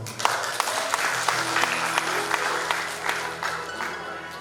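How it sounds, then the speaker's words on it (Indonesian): Wedding guests applaud at a church ceremony right after the bride and groom exchange vows, a steady wash of clapping from many hands held for several seconds at close range. "Tepuk tangan"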